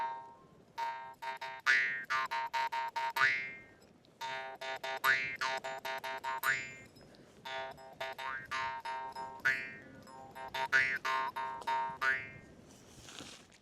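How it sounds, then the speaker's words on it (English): A jaw harp twangs in bouncy rhythmic phrases, its boingy metallic drone sliding through vowel-like pitch sweeps, played alone in repeated bursts with brief pauses between them. "The absolute necessity on every backpacking trip to make the quality of the trip better is a jaw harp."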